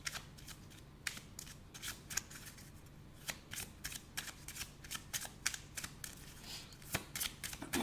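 Tarot cards are shuffled close by, a quiet run of quick papery riffles and snaps in uneven bursts over a soft hum, with no one talking.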